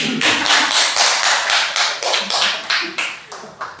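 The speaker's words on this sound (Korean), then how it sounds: "다 같이 박수로 한번." A church congregation claps together at a devotional service, loud and near, starting as a rush of many hands and settling into a slowing run of distinct, rhythmic claps.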